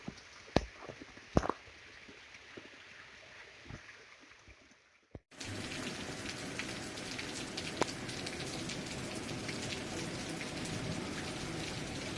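Heavy rain pours during a Ganesh immersion amid flooding in Puri district, Odisha. A few faint knocks are followed by a sudden switch to a dense, loud, continuous downpour.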